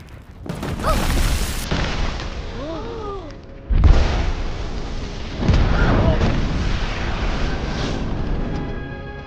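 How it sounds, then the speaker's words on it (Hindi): Cartoon firecrackers go off in loud booming bursts, one long blast followed by another sharp explosion, with whistling tones and voices between the blasts. "तुम पटाखे इस्तेमाल कर रहे हो?"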